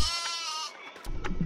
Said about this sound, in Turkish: Abi koyun, koyun, koyun, koyun, koyun.